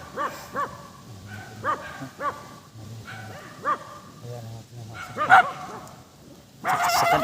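A dog barks repeatedly in a video game, in an uneven rhythm, fairly close, with people talking and a burst of louder noise at the end.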